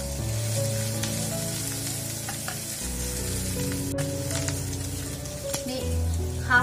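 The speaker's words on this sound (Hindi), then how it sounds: "थोड़ा सा भूनेंगे।" A tablespoon of capsicum sautéing in a pan for a pasta sandwich gives a continuous crackling sizzle, with background music playing underneath.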